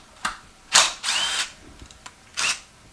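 A power tool, likely an impact driver, backs out an 8 mm bolt from the shift linkage of an 8L90 transmission during a teardown, with several short whirring bursts separated by brief pauses, close and fairly loud.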